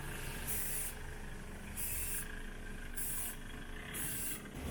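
Primer is sprayed from a can onto the rust-repaired bodywork of a Mercedes Sprinter camper van near the bumper, in four short, faint hissing bursts separated by brief pauses over a low background rumble.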